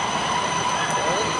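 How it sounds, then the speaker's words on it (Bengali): A metro train pulls into a station in Kuala Lumpur, a loud steady rumble of wheels on rail with a high squealing tone, close and continuous. "ট্রেন চলে এসেছে, আমরা এখন ট্রেনে উঠব।"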